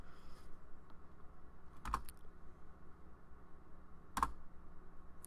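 Faint key presses on a computer keyboard while entering commands to configure a Cisco Catalyst 2960 switch, a few sparse clicks, two sharper taps standing out against quiet background hiss.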